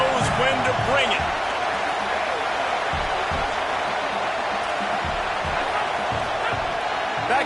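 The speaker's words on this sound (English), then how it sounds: "This crowd knows when to bring it." A football stadium crowd cheers in a steady, dense roar that holds loud and unbroken throughout, with faint voices mixed in.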